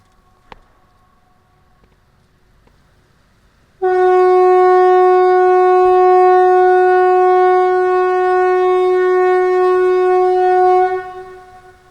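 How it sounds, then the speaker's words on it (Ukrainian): A loud, steady outdoor warning siren in Sweden, part of a weekly Monday test, starts abruptly after a few quiet seconds and holds at a constant pitch for about seven seconds before cutting off. "Отак, сирени вже спрацьовують кожен понеділок."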